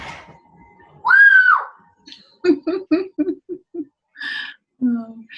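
A child's single high, piercing scream rises and falls, followed by a quick run of short voiced shouts and calls at moderate distance.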